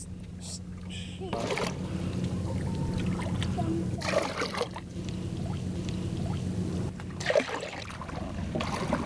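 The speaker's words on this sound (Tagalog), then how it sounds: "malakas ang patak ng tubig" Water pours and trickles steadily from a tap or pipe as people fetch water, with splashes into a container and voices talking nearby.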